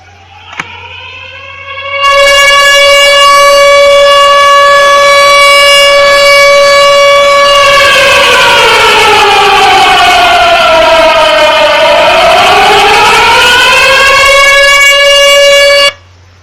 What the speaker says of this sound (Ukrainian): Якщо ви почули такий звук, то ви знаєте, що звучить сирена.